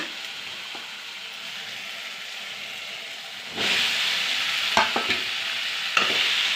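Elephant foot yam added to hot oil with softened tomato, a faint sizzle that jumps sharply louder partway through, with clinking stirring strokes over the hiss.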